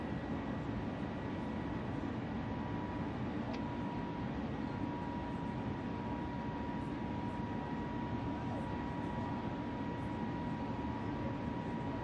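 Airliner climbing at climb power just after takeoff from Kinston, a steady, faint broadband engine roar with a constant hum, heard from the cabin with no talk.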